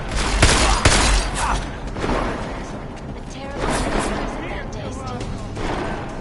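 Cannon fire in the video game Deus Ex, heavy repeated blasts and rattling gunfire in a loud, dense barrage mixed with in-game voices.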